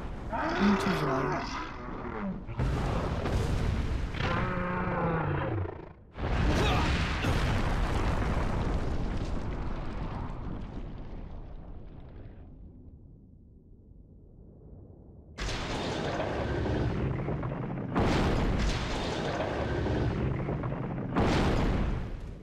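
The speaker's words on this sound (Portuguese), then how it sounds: "Um tiro de magma. Um tiro de magma." Heavy explosive booms from magma shots in a Resident Evil 4 giant fight go off one after another, with gaps of quieter rumble, while a voice talks over much of it.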